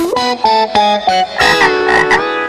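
A frog croaks in a rainy-day setting: several short, throaty, pitched calls in a row, then a longer, denser run of croaks, loud and close with a slightly processed, effect-laden quality.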